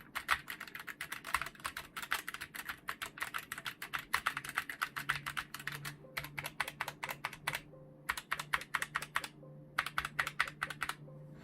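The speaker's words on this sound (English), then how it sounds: "You can see what the keys sound like when typing on them" Rapid, steady clicking of GK61 budget gaming keyboard keys being typed on, close and crisp, with brief pauses between bursts and no talking.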